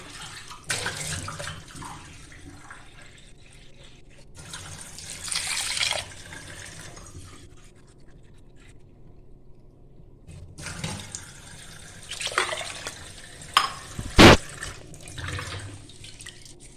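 Water is poured into a pot of soaked rice and lentils for dhokla, coming in several separate splashing bursts of varying strength with quiet gaps between, ending in one sharp louder splash, no talk.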